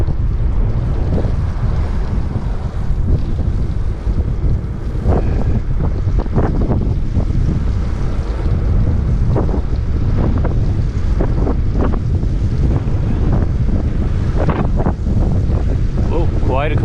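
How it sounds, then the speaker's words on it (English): Strong crosswind roars across a microphone while cycling on open roads on Harris and Lewis, Scotland: loud, constant buffeting rumble with gusty bursts throughout, close and overwhelming, no clear voices. "quite a crosswind on this bit."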